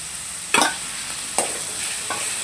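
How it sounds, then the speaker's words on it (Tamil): Onions and tomatoes sauté in a pan for a vegetable curry, with a steady close sizzle and two or three distinct stirring scrapes spaced about a second apart, no talking. "இப்போ பாருங்கள் வெங்காயம் வதங்கிடுச்சு இப்போ வந்து தக்காளி ஆட் பண்ணிக்கலாம்"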